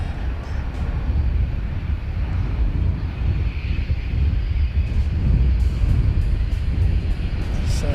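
An aircraft at Christchurch airport runs its engines for an engine test while pointed into the breeze, a loud continuous roar heard from a distance with wind buffeting the microphone.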